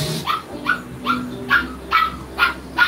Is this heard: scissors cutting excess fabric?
no